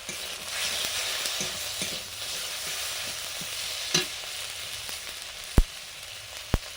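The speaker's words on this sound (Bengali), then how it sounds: "জিরে গরম মশলা বাটা জল দিয়ে মশলাটা কষে নেব" Spice paste of ginger, green chilli, Kashmiri chilli, cumin and garam masala is fried with water in a clay pot, giving a steady close sizzle with scraping stirs and two sharp knocks near the end.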